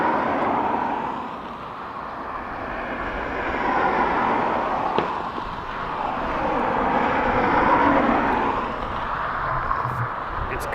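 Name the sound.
ATR turboprop arriving from Guernsey, Dublin Airport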